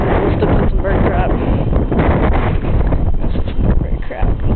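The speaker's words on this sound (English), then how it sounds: "It's kind of windy." Wind buffets the microphone outdoors in a park among dead trees, a loud continuous low rumble that fills the whole stretch.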